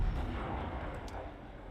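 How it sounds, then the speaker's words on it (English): A big explosion in a multiplayer shooter video game, a loud low rumbling boom that fills the short moment and slowly decays, with no talk over it. "That was a big explosion."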